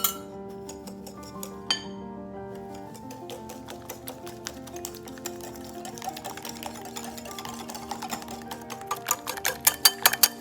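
A whisk or spoon clinks and scrapes rhythmically against a bowl while French toast batter of eggs and a pinch of salt is mixed, close up, steady and moderately quiet with sharper clinks toward the end, no talking.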